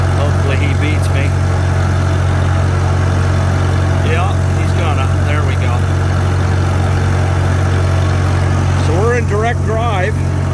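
A Farmall Super M-TA tractor engine runs steadily in direct drive as if pulling a wagon, a continuous low droning hum throughout, with faint voices briefly heard over it.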